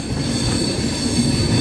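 A superfast intercity express pulls into Chittoor railway station, with a steady, close roar of wheels and carriages, high squealing from the wheels and no voices.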